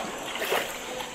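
Water rushing at a wadi waterfall in Saudi Arabia, a brief continuous splashing wash with a slight swell midway, close and moderately loud.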